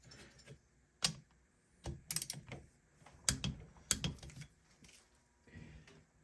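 Ratcheting torque wrench tightening the cylinder head bolts on a rebuilt 1974 Honda MT250 engine, heard as several sharp, close clicking bursts spaced a second or so apart, with quiet gaps between them.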